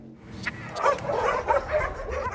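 Dogs left abandoned by the war in Ukraine bark, yip and whimper in short, overlapping bursts, close and fairly loud, with a little background noise.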